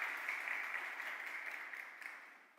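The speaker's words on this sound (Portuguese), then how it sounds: "Vocês podem dar uma salva de palmas." A church congregation gives a soft, steady round of applause, a dense hiss of many hands heard at a distance, fading out toward the end.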